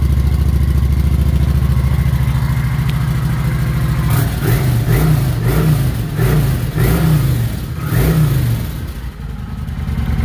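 A 2016 Kawasaki Vulcan 900 Custom motorcycle on its stock exhaust idles with a low steady rumble, then revs several times in quick blips before settling back, loud and close.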